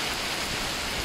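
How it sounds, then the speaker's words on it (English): Rain falls steadily over farmland being prepared for seeding, a dense, even hiss of drops that fills the short clip, close and continuous with no voices. "Okay, so the rain is here, so this should be the final rain that we're after"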